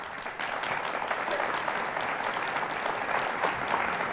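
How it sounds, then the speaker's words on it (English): A panel audience gives a steady round of applause, a dense wash of clapping that holds at an even level throughout with no talk over it. "Maurice expects higher degree of applause"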